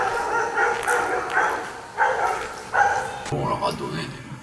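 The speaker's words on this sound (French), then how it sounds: "Il y a des clébards là-bas." Dogs bark and yip in short bursts a little way off during an urban exploration, with people talking over and between the barks.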